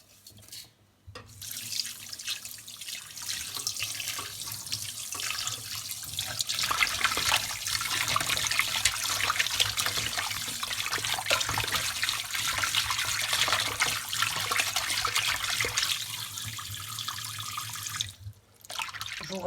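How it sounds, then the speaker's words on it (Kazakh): Animal intestines being rinsed in water for sausage making, with a steady run of tap water and splashing that holds for most of the stretch, brief quiet gaps near the start and end, no talking. "судың бетінде көбігі кеткенше бірнеше қайтара шаямыз"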